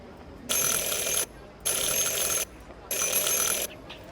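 A bell rung to call a character in the video game Syberia: three bright, sustained ringing bursts of under a second each, separated by short pauses, close and loud.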